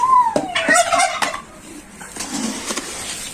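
Turkey gobbling loudly and close, a rapid warbling call in the first second and a half, followed by quieter farmyard rustling and faint clucks.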